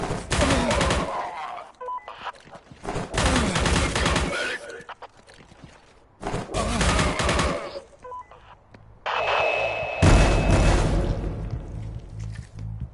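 Bursts of rapid WWII-era gunfire in the video game Forgive Me Father, four loud sustained volleys separated by short quieter gaps, the last one heavier and booming.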